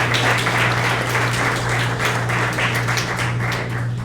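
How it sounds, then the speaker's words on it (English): An audience at a reception applauds in a steady, dense wash of clapping that holds for several seconds, fairly loud and close, with a low hum underneath and no talk. "let's give her a round of applause"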